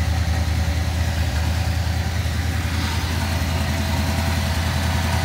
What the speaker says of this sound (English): Car sounds amazing. It is so smooth and so dialed in